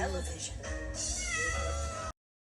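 A kitten meows loudly and repeatedly, high and close, with voices talking over it before it cuts off abruptly.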